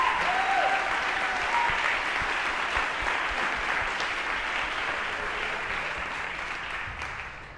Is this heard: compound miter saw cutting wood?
no